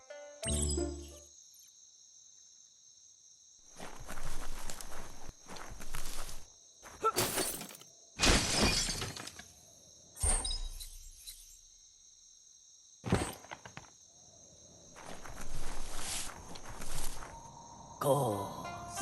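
A box being smashed apart in the video game Biomutant, with several bursts of shattering, breaking clatter spread across the scene over a steady high insect-like hum, no voices.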